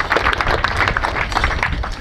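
An outdoor audience at a World Rangers Day gathering in Isiolo claps for the rangers, giving a steady, loud wash of many hands applauding together for about two seconds.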